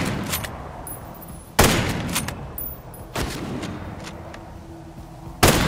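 Sniper gunfire in Ghost Recon Breakpoint: three loud, sharp shots spaced a second or two apart, each with a booming tail, over a constant rumble of game ambience.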